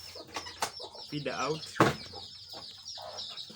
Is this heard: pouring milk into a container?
no